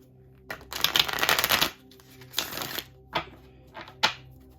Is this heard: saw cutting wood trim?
no